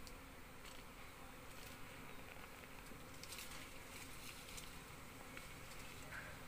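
Honey bees hum in a steady, dense drone around a hive box draped with a mosquito net, a continuous buzzing with no voices over it.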